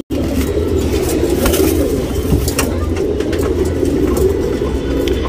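Male racing pigeon of tournament class, a dark outer-ring bird, coos steadily close by, a low continuous murmur running through the whole stretch with faint background noise.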